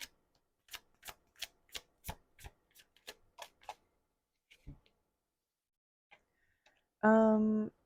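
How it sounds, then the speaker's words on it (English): A tarot deck is shuffled in a quick run of about a dozen crisp, evenly spaced riffling snaps. A few slower, fainter clicks follow, then a person briefly starts speaking. "Let me just give this a shuffle real quick."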